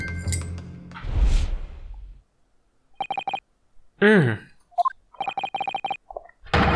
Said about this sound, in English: if the music box isn't broken, it must mean that the sounds it's producing have some significance that isn't musical